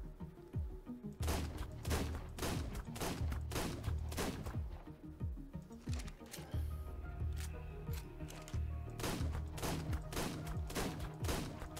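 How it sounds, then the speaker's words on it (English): Gunfire at a Megaloceros in the video game Ark: Survival Evolved, a loud sustained run of rapid repeated shots with only a few short breaks. "I'm shooting the Megaloceros."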